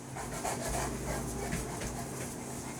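Dogs at home, one a cane corso, pant steadily up close with a few soft whimpers mixed in, the breathing continuous and fairly loud for nearly three seconds.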